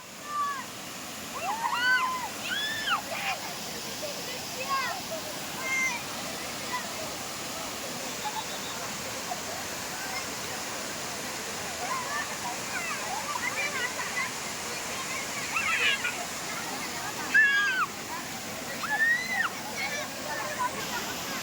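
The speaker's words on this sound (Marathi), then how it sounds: "बेकऱ्याचा वॉटरफॉल" Bekre waterfall rushing steadily in a constant broad roar, with children and other people shouting and chattering over it throughout.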